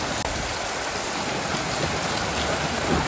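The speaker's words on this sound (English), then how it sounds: "Rainy but windy." Steady rain hisses outside in a dense, even wash, with a faint gusty rush of wind underneath and a single click near the start.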